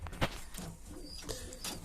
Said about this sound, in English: Two very nice looking young birds.